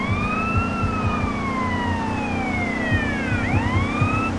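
A police car siren from GTA San Andreas, on a Guatemalan police Corvette, sweeps in long steady wails over a constant engine drone, with no voices.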